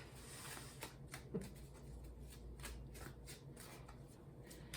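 A deck of tarot cards is shuffled by hand, giving a close, quiet run of quick riffling snaps and soft flutters in a steady rhythm.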